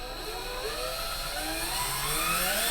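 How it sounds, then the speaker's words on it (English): A power drill whirs right beside an SP-404SX sampler, a steady, loud mechanical whine with gliding pitch sweeps that rise and fall across the short take. "I'm gonna hold the drill up next to the SP-404 and I'm going to record it"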